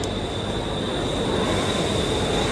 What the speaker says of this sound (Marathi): आता मी जातो घरी तेव्हा ट्रेन लागली आमची